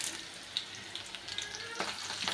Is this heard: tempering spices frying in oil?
yes